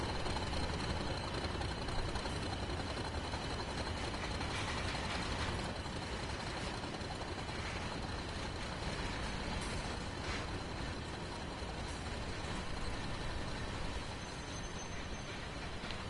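A Class 40 diesel locomotive hauls a heavy oil train in Train Sim World, giving a steady, loud engine drone with a faint high whine above it. The drone holds the same level throughout, with no voices.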